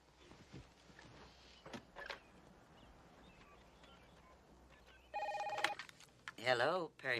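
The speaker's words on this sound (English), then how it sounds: "There's the phone." A telephone rings in an American legal drama scene: a short electric ring burst sounds after several seconds of quiet room noise and faint movement, followed by further brief warbling tones.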